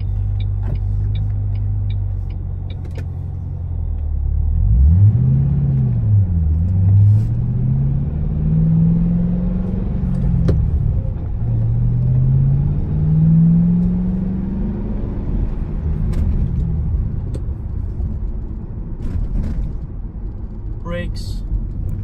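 A 2006 Ford Mustang GT V8 engine rumbles low and revs up and down through the manual gears while driving, with someone talking over it.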